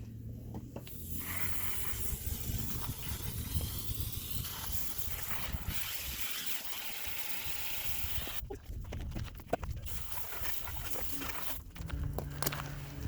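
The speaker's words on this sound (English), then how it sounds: "Now you rinse the bike." A motorcycle rinsed down with water after scrubbing, heard as a continuous broadband spray and splash that fills the whole stretch at close range, changing slightly in tone as the stream moves.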